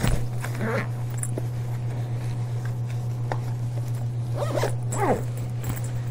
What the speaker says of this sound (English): And simply zip it up.